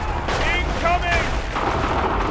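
Enemy gunfire and cannon fire in the video game Assassin's Creed III: a dense, continuous roar of blasts and crackling shots with shouted voices rising over it.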